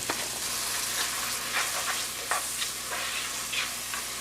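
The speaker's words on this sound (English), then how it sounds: "Then we're going to add about 2 or 3 tablespoons of garlic to the butter." Chopped onion and garlic sizzling in butter in a pot for Brunswick stew, a steady quiet frying hiss with periodic crackles and soft stirring scrapes, no voices.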